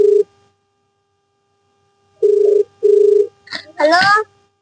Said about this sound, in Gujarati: લાવ હું સખ સાહેબ ફોન કરું.